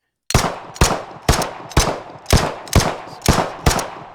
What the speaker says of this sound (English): I'm going to stand like right here or something, and just shoot